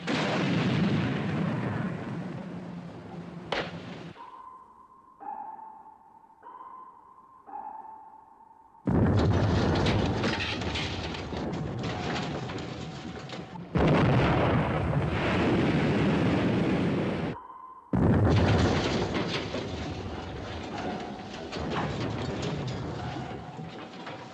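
Heavy WWII naval battle sounds from a 1957 war film: deep, booming blasts and long rumbling explosions come in bursts. Between them are quieter gaps with repeated sonar pings.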